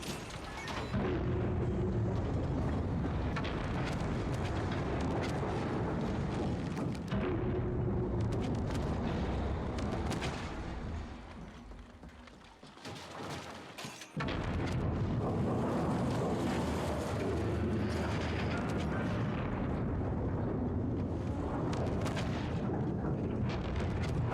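Heavy, continuous booming explosions and rumbling blasts from an explosive barrel in the video game The Ascent, loud and dense, with a brief lull partway through before the roar resumes.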